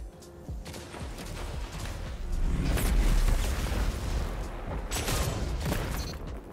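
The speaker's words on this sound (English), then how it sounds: "You got to deal with the daddy, the machine gun." Rapid machine gun fire in the video game Destiny 2 during a Trials match, a dense rattling barrage with booming bursts that swells louder mid-way and stays continuous throughout, with no voices over it.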